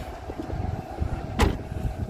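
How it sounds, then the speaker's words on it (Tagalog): A small car's door slams shut once, a single short thump over steady outdoor vehicle rumble, with no talking. "so ngayon isasarado ko tong kotse"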